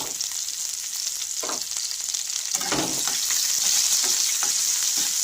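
Chopped ginger and green chilli fry in hot oil, giving a continuous near sizzle with a few stirring scrapes and clatters over about five seconds.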